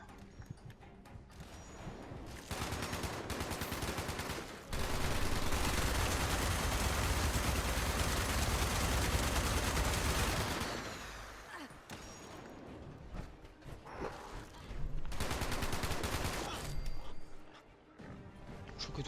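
Gunfire in Fallout 76 breaks out in loud bursts of rapid shots and heavy blasts, with pauses between volleys and voices shouting in French amid the shooting.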